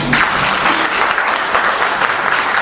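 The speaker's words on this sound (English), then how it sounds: "So now you can clap." Audience applause at a panel discussion, steady dense clapping throughout at a constant moderate loudness, with no voices over it.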